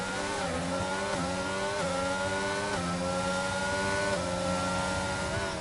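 Race cars in an NHRA simulated racing series roar steadily around the track, several engines droning together at high revs with repeated rising and falling pitch sweeps, loud and continuous with no talk.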